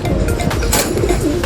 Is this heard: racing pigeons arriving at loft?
yes